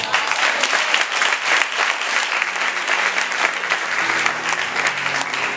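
A church congregation applauding and cheering during a sermon, loud, rhythmic, uneven clapping from many people, with a low hum of voices or music rising beneath toward the end.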